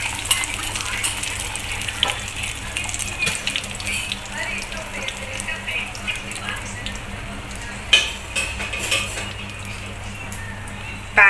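Two beaten eggs with onions cook as an omelette in a pan for a sandwich, giving a continuous close sizzle with occasional utensil knocks and faint background noise from the kitchen.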